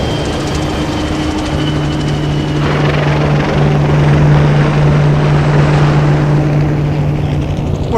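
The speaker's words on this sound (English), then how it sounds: "The sky is full of planes and helicopters." Helicopters and planes fly overhead at Okinawa: a loud, steady rotor drone with engine roar fills the air continuously, close and unbroken.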